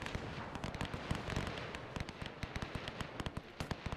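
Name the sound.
machine gun and cannon fire in WW1 video game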